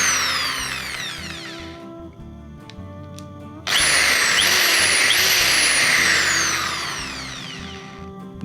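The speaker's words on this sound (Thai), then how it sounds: "ก็สรุปว่าสว่านนี้ใช้งานได้ตามปกตินะครับ" A power drill whirs steadily, briefly pausing, then revs up again loud and close with rising and falling pitch as it runs.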